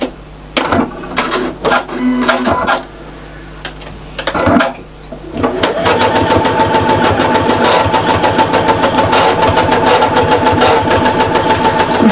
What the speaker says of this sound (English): This machine is making the most peculiar noises. I think it's going to have to get a service.